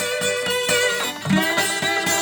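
Guitar strings played with bottleneck slide technique ring out with sustained bright tones as notes are plucked in a steady pattern, close and fairly loud.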